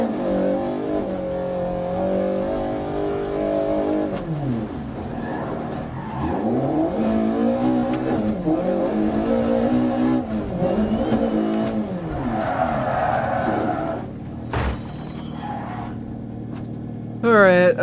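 Engine revving and tire skidding from a driving video game, with a steady mid-level engine tone that rises and falls in pitch through sweeping accelerations, and a voice speaking briefly over it.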